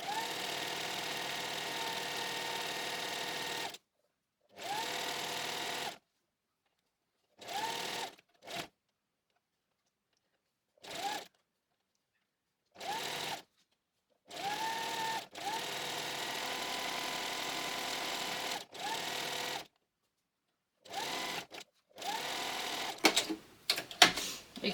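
A sewing machine stitches a seam on a Jarvis top, running in short bursts and longer steady whirring runs separated by silences, close and fairly quiet, with a few sharp clicks near the end.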